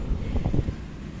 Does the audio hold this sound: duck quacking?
no